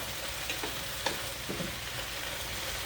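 Vegetables sizzle steadily in a pan for a lasagna with spicy zucchini and Italian sausage, and a utensil scrapes and stirs through them with a few soft knocks.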